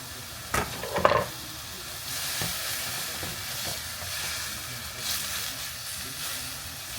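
Food being stirred in a pot on the stove, with a few clacks of the utensil against the pot early on, then a steady soft sizzle and hiss underneath.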